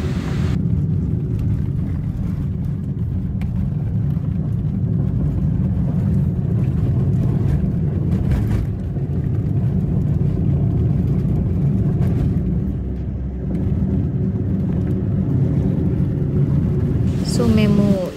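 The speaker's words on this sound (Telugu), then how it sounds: "సో మేము ఇక్కడ ఒక కార్ని హైర్ చేసుకున్నాము వెళ్ళడానికి." A hired car drives along the road on the way to a temple, a steady low engine and road rumble heard from inside the cabin throughout.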